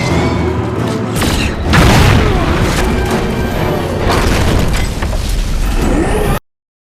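Film action scene with a powerful explosion: heavy booming blasts and crackling debris roll on for several seconds amid dense rumbling chaos, then cut to silence.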